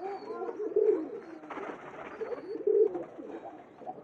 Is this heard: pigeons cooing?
yes